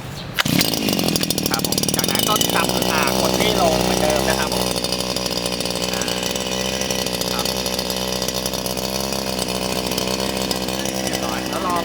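An MIT-411 brush cutter's two-stroke engine catches after a pull and runs steadily at a loud, buzzy idle, with a faint voice under it.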